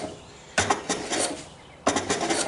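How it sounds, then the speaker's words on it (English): A block plane shaving a chamfer off the corner of a piece of wood: two distinct rasping strokes, each opening with a sharp bite and trailing into a scratchy shave, close and clear with no talking. "So you can see I'm just taking off the edge of that corner."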